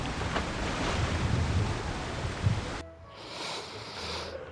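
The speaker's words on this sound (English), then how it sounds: "which is behind this waterfall" A rushing waterfall in the Wizard101 video game gives a steady, dense wash of water noise that drops abruptly to a quieter, hollower ambience partway through, with no talking.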